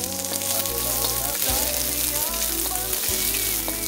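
Garlic and onion sautéing in a hot pan, a bright continuous sizzle and crackle close up, with faint scraping stirs and no talk.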